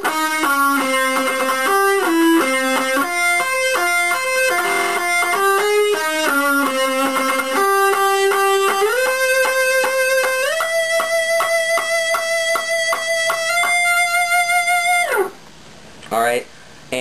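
An electric guitar plays the solo from a song, with distorted sustained notes stepping through bends and slides, then a final held note that breaks off into brief noisy scrapes.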